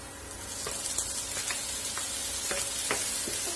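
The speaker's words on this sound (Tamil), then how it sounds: "தக்காளியும் இதோட சேர்த்து வதக்கி விட்டுருவேன்." Steady sizzling of onions and tomato frying in a pan, with occasional scraping and stirring clicks, close and continuous with no talking.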